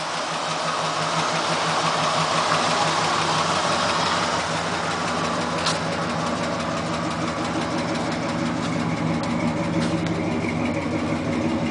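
A 1971 Buick Centurion convertible's engine runs steadily at idle, a continuous close rumble with a faint knocking texture and no voices over it.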